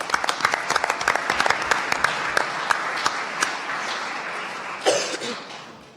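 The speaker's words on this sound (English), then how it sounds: "It deserves a round of applause." Audience applause at the Left Forum 2018 opening plenary, held in a College of Criminal Justice: dense clapping with sharp individual claps, a brief surge near the end, then thinning out and fading.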